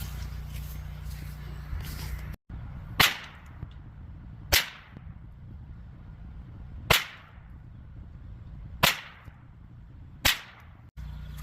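A Ruger 10/22 rifle fires CCI Clean rimfire rounds at a 50-yard target, with five sharp, evenly spaced cracks a couple of seconds apart, each trailing a short echo outdoors.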